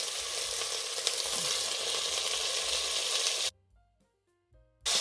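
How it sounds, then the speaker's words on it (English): Room-temperature beef sears in hot oil in a Dutch oven with a loud, even crackling sizzle that cuts off abruptly near the end, leaving brief near-silence before the sizzle returns. "I want a nice sear on the meat."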